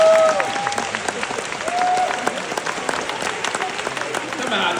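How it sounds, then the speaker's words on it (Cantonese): A seated audience applauding, dense steady clapping throughout at close range, with a few brief whistles near the start. "都要俾掌聲你哋自己喎"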